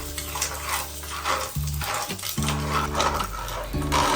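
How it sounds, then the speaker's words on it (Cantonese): Clams drop into a hot ridged grill pan of melted butter, garlic slices and chili strips, setting off a steady loud sizzle with shell clatter, broken by a brief lull partway through. "我哋就可以加入花甲啦。"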